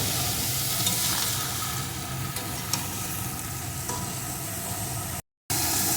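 Eggplant pieces being stirred with vegetables in a pan for a rui fish curry with potatoes and pui shak, giving a continuous close sizzle with soft scraping strokes, briefly cut to silence near the end.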